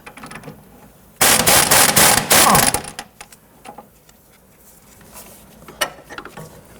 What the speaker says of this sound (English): Loosen and remove the upper sway bar end link nut.